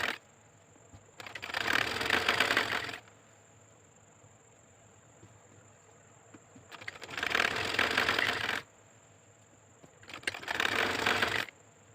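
A foot-operated treadle sewing machine stitches a salwar in three separate runs of steady, rapid mechanical chatter, each lasting a couple of seconds with quiet pauses between, close and fairly loud.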